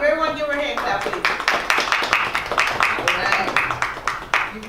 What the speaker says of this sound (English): Come on up, everyone, give her a hand clap